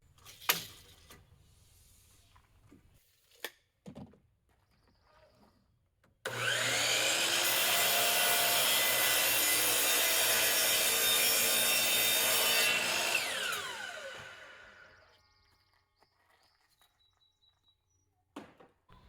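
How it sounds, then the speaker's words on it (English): Power saw ripping wooden siding trim boards, one continuous loud cut lasting about six seconds that winds down at the end, with faint workshop clatter before and after. "now that I have these, I'm gonna rip them"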